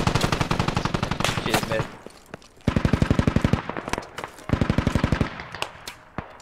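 Gunfire in the tactical shooter Squad, played with an M4 against Russian troops: loud rapid automatic bursts in three long strings separated by brief gaps, with a few short words spoken over it.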